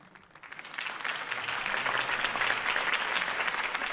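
Crowd applause in the Batman Telltale game, a dense broad clapping that swells in after half a second and holds steady, loud and even, with no talk over it.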